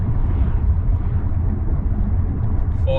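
Deep, steady rumble of a BMW 530D with a big turbo, intercooler and remap, pulling hard in third gear with some wheelspin, heard from inside the car as a continuous low drone.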